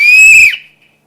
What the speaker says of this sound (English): keep the whistle away from the kids. You do not want them haphazardly blowing the whistle